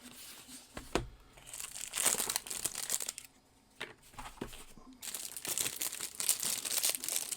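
Packing tape is peeled and crumpled off a knife package, crackling and tearing in several loud bursts with short quieter pauses between them, close to the mic.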